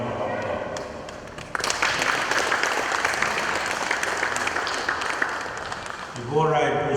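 Loud applause from an audience at a playground handover ceremony, honouring an ambassador, swells in after a brief lull and carries on dense and steady, with a voice rising over it near the end.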